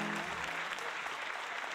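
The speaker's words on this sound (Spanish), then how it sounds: "Un aplauso para estos músicos." Audience applauding musicians at a lively live music event, a dense continuous wash of clapping filling the room, steady and fairly close, with a few voices mixed in.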